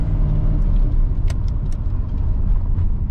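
A Chevrolet C30 squarebody truck that shifts oddly, driving and changing gears: a loud, steady low cabin rumble from the road and engine with a few faint clunks over it, no speech.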